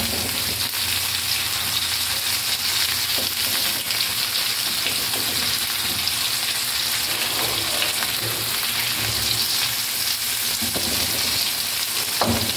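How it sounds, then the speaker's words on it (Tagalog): Garlic browns in hot oil in a frying pan for adobong manok, giving a steady, close, continuous sizzle and crackle with occasional stirring scrapes and no voices. "I-brown-brown lang natin yung ating bawang."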